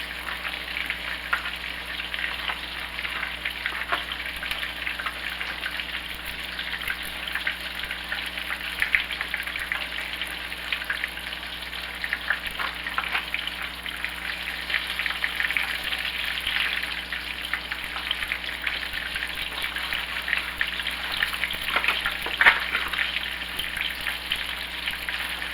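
Thin pork schnitzel cutlets frying in a pan, a steady crackling sizzle of hot oil that holds even and fairly loud throughout, with a few sharper pops, and no talking.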